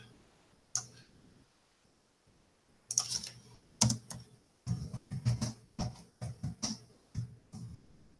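Computer keyboard keys clatter in quick bursts of typing while a search is entered, crisp clicks arriving in clusters with short pauses between them, close and fairly loud.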